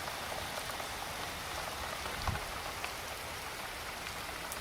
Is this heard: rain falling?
yes